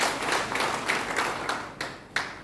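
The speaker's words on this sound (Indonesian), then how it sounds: "Tepuk tangan buat Tuhan Yesus." Church congregation applauding after a sermon, a short burst of moderately loud clapping from many hands that swells and then tapers off within a couple of seconds.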